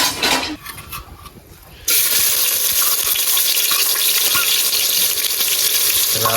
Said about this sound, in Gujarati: હવે આને છે ને આપણે ભાઈ તેલમાં પકવવાની છે ડુંગળીને।